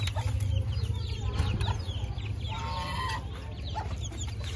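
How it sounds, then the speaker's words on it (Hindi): A hen and her chicks in a backyard coop clucking close by, with soft repeated clucks and high chick peeps scattered over a steady low background hum. "ये खोलें, ये देखें जी, मुर्गी और इसके बच्चे हैं।"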